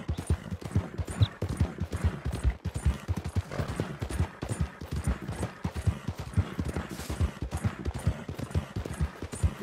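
Horse hooves clip-clop in Red Dead Redemption 2 around the town of Strawberry, a brisk, evenly paced run of close, distinct hoof strikes throughout.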